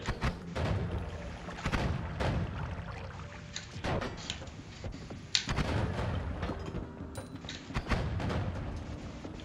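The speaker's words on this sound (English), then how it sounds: "Trying to explode that propane tank" Propane tank blowing up in the Noita video game, with repeated heavy booming blasts and thuds spread across the scene, loud and dense with crackling debris between bursts.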